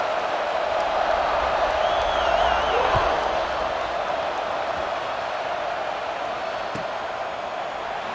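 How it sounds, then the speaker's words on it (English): A stadium crowd roars with sustained cheering at an Ohio State versus Nebraska college football game, a dense wash of voices filling the space, with a brief whistle and scattered thumps rising above it. "this crowd is feeling themselves after that last drive"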